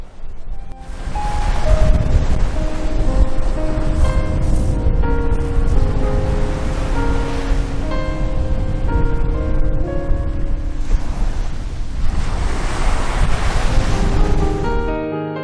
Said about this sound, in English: the bigger the waves that crash onto the shore